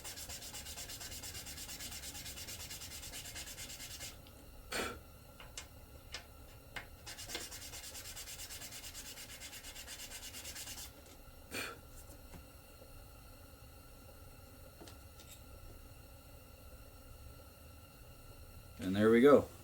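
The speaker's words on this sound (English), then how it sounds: "you're going to sand the sides that don't have the slit" Sides of a plastic shifter part for a 1990-93 Honda Accord race shifter are sanded on a flat surface, a soft quiet rubbing with a few short louder scrapes and a brief clatter at the end.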